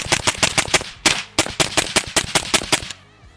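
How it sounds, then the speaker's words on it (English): A rifle fires rapidly as a magazine is dumped, a string of loud, close, sharp gunshots in quick bursts with a brief pause, then stopping. "so we're gonna mag dump for a little bit."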